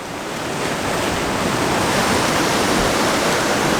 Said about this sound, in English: the tide's coming from behind me and by the side